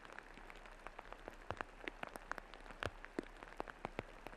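Rain falls on a disc golf course during a college championship, a soft, steady patter with scattered sharper drops hitting close surfaces, fairly quiet and uninterrupted by talk.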